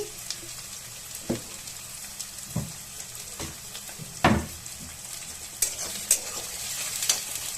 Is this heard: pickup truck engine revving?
no